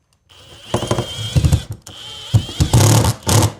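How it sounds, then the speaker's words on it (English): A power driver sinks a screw with a fender washer into a wall stud while a 200-amp load center is mounted for an off-grid solar build, whirring in two close, bursty runs with brief pauses between. "I can get a 3rd screw and fender washer in"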